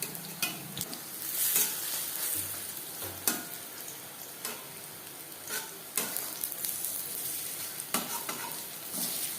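Cabbage pakoras fry in hot oil with a steady crackling sizzle, broken by sharp scraping clicks as the fritters are stirred and turned, loud and close with no voices.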